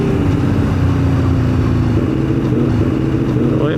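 Motorcycle engine pulling hard during an overtake on the road, a loud, steady close drone with wind rumble throughout and no speech.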